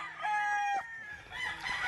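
A gamefowl rooster crows loudly and close by, a drawn-out cock-a-doodle call with a rising then sustained tone, followed by a second shorter crow.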